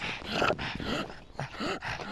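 A dog whimpers and whines close by in short, uneven bursts, with soft breathy sounds between.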